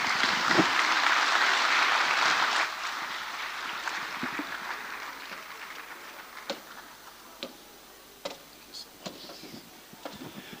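Audience applause at a social impact summit, a dense wash of clapping that swells early and then thins out into scattered individual claps.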